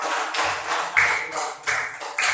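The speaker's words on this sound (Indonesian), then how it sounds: "Tepuk tangan dong untuk kita semua." Children in a classroom clap in short, uneven bursts, a light patter of hands with a few sharper slaps, fairly near and heard without talk.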